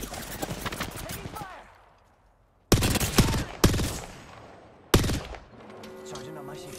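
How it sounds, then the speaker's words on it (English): Gunfire erupts in the Apex Legends battle royale game: loud sharp bursts around the middle and another near the end, cutting over a busy mix of game sounds, with a louder full burst of shots standing out. "Taking fire."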